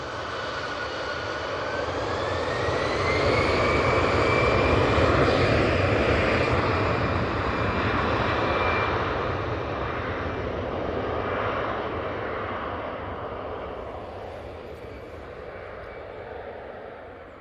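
An SAS airliner in old livery passes overhead at Manchester Airport, a loud jet roar building over a few seconds with a rising whine, holding steady, then slowly fading, with no voices.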